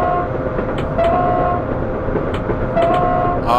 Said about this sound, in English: And here's the horn.